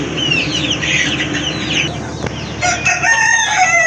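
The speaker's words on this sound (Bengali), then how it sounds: "এই যে আমার মুরগি" Backyard chickens clucking busily with a rooster crowing over them, a dense, close flock sound that continues without pause for several seconds.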